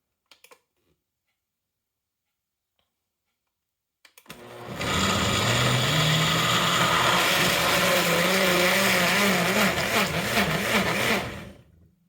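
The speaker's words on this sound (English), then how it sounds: "I'll probably kill the sound on this because you probably don't want to hear the blender going." A kitchen blender liquefies an apple crisp pepper sauce for lacto-fermentation, starting abruptly after near silence and whirring loudly and steadily for about seven seconds with a wavering motor pitch before cutting off.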